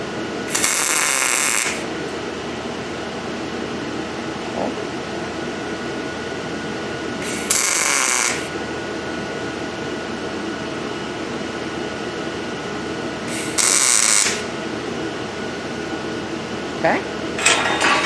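Test welds laid on a steel strap piece at a blacksmith's forge, heard as three separate crackling, hissing arc bursts of about a second each, separated by long stretches of low steady hum.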